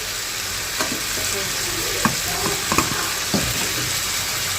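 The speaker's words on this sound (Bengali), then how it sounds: "মাছ ভাজছি" Hilsa fish frying in a pan, a steady close sizzle with a few soft clinks and scrapes scattered through it and no voices.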